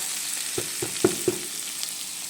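Eggplant and tomato cook in a pan with a soft, even sizzle, punctuated by four quick light taps of a utensil in a row before the frying carries on alone.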